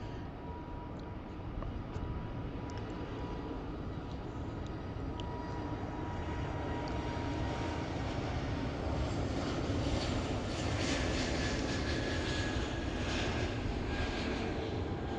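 An airliner on a Heathrow runway rolls for takeoff, its jet engines building from a steady rumbling roar into a broad, loud thrust that holds throughout with no talk.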